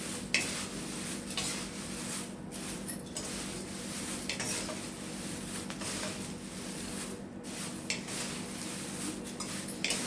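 Curry leaves are stirred and dry-roasted in a pan, giving a soft continuous sizzle with light scraping and occasional clinks of a utensil against the pan, faint and close, with no talking.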